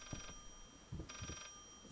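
An old-style telephone rings in Layers of Fear, two bursts of trilling bell tone heard at moderate distance, with soft thudding footsteps between and under them.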